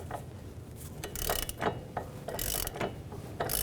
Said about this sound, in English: So I can take a 21mm wrench and a 10mm socket.